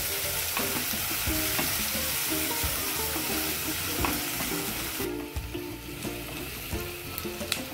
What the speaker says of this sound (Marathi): कांदा मिरची लसूण मस्त असं तेलामध्ये फ्राय झालेला आहे